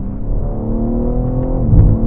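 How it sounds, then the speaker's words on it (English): A 2024 BMW M3 Competition Touring's six-cylinder engine hums loud and close, rising in pitch as it revs, then crackling exhaust burbles break through near the end. "You get those beautiful burbles from the exhaust as well."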